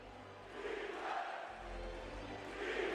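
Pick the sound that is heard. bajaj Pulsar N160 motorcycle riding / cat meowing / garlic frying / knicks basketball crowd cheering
knicks basketball crowd cheering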